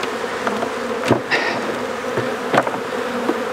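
Honey bees buzz around an open hive during hive splitting, a dense continuous drone close by with individual bees zipping past and a few brief knocks.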